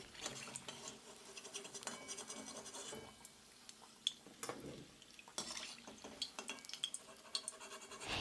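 Fried khasta aloo kochuri being lifted out of a kadai of hot oil, scraping and clinking of a slotted spoon against the metal pan over a faint bubbling of oil, close and intermittent, without talk.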